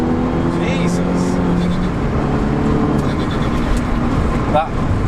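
Turbocharged Citroen C2 hatchback engine revving loudly and continuously up close, with a brief turbo flutter near the end, while people talk over it.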